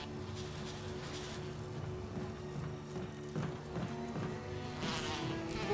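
Bees buzzing in the video game the Residence, a continuous low droning hum with a few brief louder swells, moderately close, with no talking.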